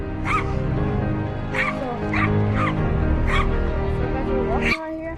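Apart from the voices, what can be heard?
dogs barking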